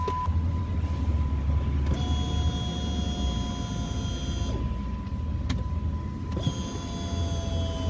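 A steady electric whine from a vehicle fuel pump priming drones under a low vehicle rumble, with a faint tone shifting partway through and brief clicks.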